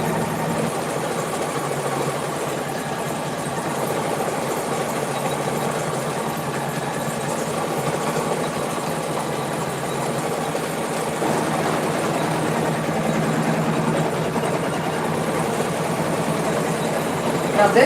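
Embroidery machine stitching a clutch piece onto its backing in the hoop, a steady continuous mechanical hum and rapid needle drone running throughout at even loudness, with no talk over it.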